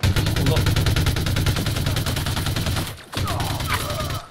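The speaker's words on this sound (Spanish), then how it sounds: "me están disparando ellos también" Dense, continuous video-game gunfire from a crowded firefight, rapid overlapping shots rattling on steadily for about three seconds, a brief gap, then more bursts resuming, with a voice talking over the shooting.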